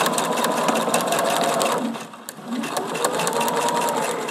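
Sewing machine stitching quilt fabric in the seam allowance, a steady close mechanical whir with rapid needle ticking that briefly slows and dips near the middle before resuming at full speed.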